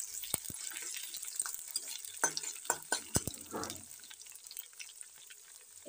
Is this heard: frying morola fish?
yes